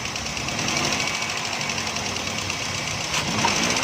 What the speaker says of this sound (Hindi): ये गाड़ी में मिसिंग है।